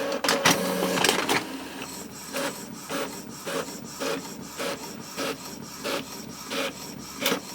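An Epson EcoTank ET-2810 inkjet printer runs with a regular repeating rhythm of short mechanical swishes and rasps as pages feed through, preceded by a few clunks.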